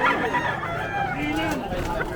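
A fighting rooster for sale at Malolos Pet Market crows once, close and drawn out, over market chatter and background voices.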